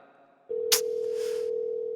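A phone call goes unanswered, heard from the caller's end as a steady electronic ringback tone that starts abruptly and holds at an even level, with a brief click partway through.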